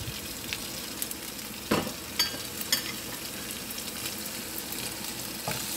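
Prawns fry in oil with browned garlic, giving a continuous close sizzle broken by a few sharp crackles and stirring clinks.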